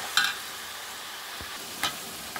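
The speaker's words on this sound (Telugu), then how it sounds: "చికెన్ అంతా మనకి ఫ్రై అయింది అన్నమాట. ఇలాగా ఆయిల్లో వేగింది." Chicken fries in oil for a radish chicken curry, giving a steady soft sizzle with two brief sharper scrapes or clinks of stirring, close and alone.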